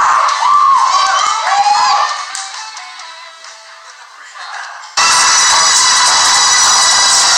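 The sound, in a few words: wrestling event crowd cheering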